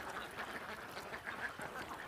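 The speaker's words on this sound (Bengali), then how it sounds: "এখানে যে অসংখ্য হাঁস আপনারা দেখতে পাচ্ছেন" Flock of laying ducks on a farm kept on open wetland, quacking in a dense, overlapping chorus of rapid calls, fairly faint and distant, with no talking.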